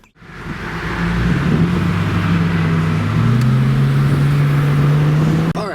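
A 2014 Mercedes-Benz E 350 convertible pulls away on a test drive, its engine note rising steadily in a smooth, continuous drone from a near cabin perspective, with no talk.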